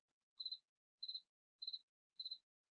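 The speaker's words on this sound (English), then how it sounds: "I'm streaming with the crickets tonight." Crickets chirp at night in four evenly spaced, bright pulsing trills, each a quick burst of rapid pulses separated by silence, fairly faint and alone with no voices.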